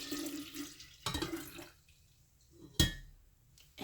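Water poured into a tea container to fill it, with a few short bursts of splashing and pouring separated by quiet gaps.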